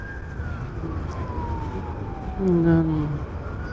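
An ambulance siren wails in the distance beneath road noise, its tone sliding up and down as a vehicle passes nearby, heard from a KYMCO Downtown scooter.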